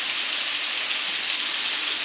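Mushrooms sauté in butter in a hot pan, giving off a steady, dense sizzle and crackle that holds evenly for the whole stretch with no pauses and no voices.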